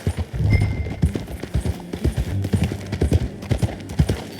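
Horse hooves clip-clop in a steady walking rhythm in Red Dead Redemption 2, close and clear, with faint ambient sound behind them.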